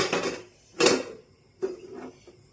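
An old, long-used pan for tandoor roti is set on a lit gas stove, making three separate metallic clunks with quiet pauses between them.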